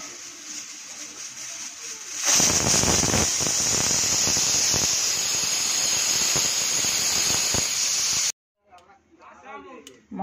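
Pressure cooker whistling as peas boil for ghugni, a loud, sustained high steam hiss and squeal that starts abruptly and holds for about six seconds before cutting off, followed by quieter kitchen sounds.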